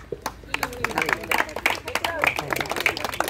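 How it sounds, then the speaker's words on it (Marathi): Players clapping at a village cricket final, a rapid burst of many hands applauding together close by, mixed with shouts and voices from the gathered crowd. "सर्व खेळाडूंनी टाळ्या वाजवायच्या."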